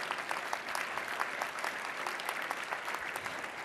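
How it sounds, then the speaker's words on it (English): A large room of guests at a Women's Bar Association of Illinois installation gives continuous, dense applause, a steady wash of many hands clapping at moderate distance with no speech over it. "So please give him a big round of applause."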